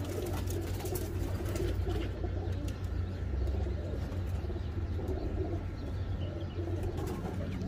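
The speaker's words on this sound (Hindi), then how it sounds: "ये कबूतर है" Teddy pigeons coo low and repeatedly, close by, over a constant murmur of background noise, with a few faint chirps mixed in.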